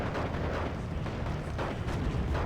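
Mortar fire in the video game Steel Division II: dense, loud rumbling booms and blasts overlap continuously with no gaps between impacts, and no one talks.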